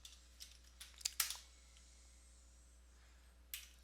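Computer keyboard typing during an Oracle SQL database exercise: a few quiet, scattered key clicks, briefly clustered near the middle and again toward the end, with long near-silent gaps in between.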